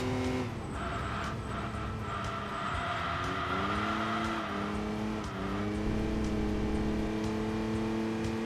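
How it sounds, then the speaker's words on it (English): Tuned van's engine and exhaust in the racing game Enthusia Professional Racing, a steady droning engine note rising and falling through gear changes, with a faint tire squeal, loud and continuous throughout. "You can kind of hear the slight difference in exhaust in it as well now that it's been tuned"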